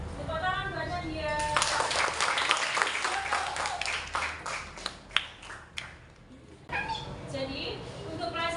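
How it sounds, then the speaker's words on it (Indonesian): Students clap in a classroom for a classmate, a short burst of fairly close hand claps rising and then stopping, with voices audible before and after. "tepuk tangan buat Nadia."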